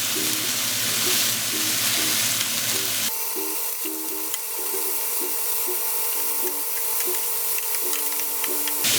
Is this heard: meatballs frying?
yes